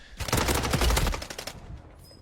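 Submachine gun fire in a close-quarters gunfight on Rebirth Island in a video game, a loud rapid burst of automatic shots lasting about a second, then a few trailing clicks and quieter tail sounds.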